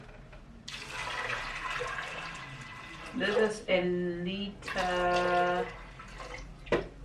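Water pouring into a pressure cooker while cooking turkey neck stew with beans, a steady splashing stream running for several seconds under a voice, with pauses where he speaks.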